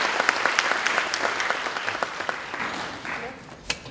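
A seminar audience breaks into steady, warm applause welcoming a guest speaker on welfare policy, sustained clapping across the whole stretch with a brief louder burst near the end.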